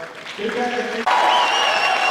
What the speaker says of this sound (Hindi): मैं ताली की गड़गड़ाहट में उनको बुलाना चाहूँगा